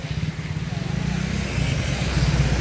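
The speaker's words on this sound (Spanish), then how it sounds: "Aquí hay que tener cuidado porque hay muchos carros transitando." On a busy road in La Lima, Cortés, Honduras, just after rain, a nearby motor vehicle's engine throbs in rapid pulses and builds as it passes, with a faint murmur of voices.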